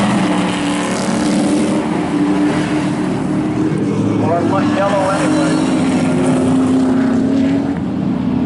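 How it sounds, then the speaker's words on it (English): Race cars roar steadily around the high-banked Monadnock Speedway, a dense continuous engine drone with passing swells, while an announcer talks over it. "Racing on the high banks of Monadnock Speedway."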